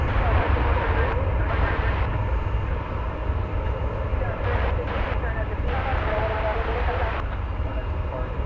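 A Boeing 737-900 jet at DFW Airport gives a loud, continuous engine roar that holds steady throughout, while a voice talks over it.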